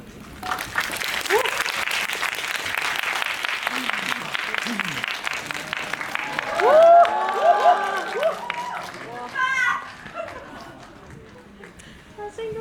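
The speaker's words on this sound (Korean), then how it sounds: "큰 박수로 맞이해 주시면 감사하겠습니다" A cinema audience at a CGV theatre in Incheon claps warmly to greet a film's director and actors at a stage appearance, a steady wash of applause for several seconds before it fades and voices take over through a microphone.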